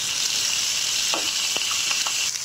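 Slit green chillies sizzle in hot oil with a loud, steady hiss that fills the clip, while a few faint clinks of a spoon break through near the end; no one speaks.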